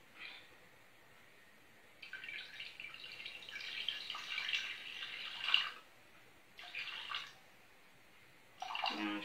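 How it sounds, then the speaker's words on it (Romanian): Water, about 300 ml, is poured into a cooking pot in several separate bursts of splashing and trickling, with short quiet gaps between pours. "Punem 300 de apă."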